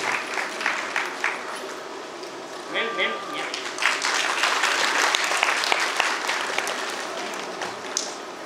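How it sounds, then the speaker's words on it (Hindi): A stage audience breaks into steady, loud applause to welcome a director, with many hands clapping close by throughout and voices mixed in. "दर्शकों से निवेदन है जोरदार तालियों के साथ आपके निर्देशिका जी का सम्मान कीजिए"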